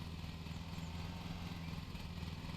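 Lawn mower engine from the Lawn Mowing Simulator video game, droning at an even, moderate level with a low rumbling idle-like tone and no break.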